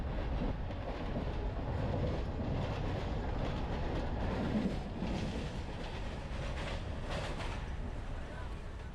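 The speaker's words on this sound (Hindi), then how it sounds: "जैसे मेरी ट्रेन तेजी से बढ़ी, मैंने इमारतों को पहाड़ों में बदलते देखा।" A train speeds along with a continuous loud rumble and faint rhythmic rattling, heard from inside the moving carriage.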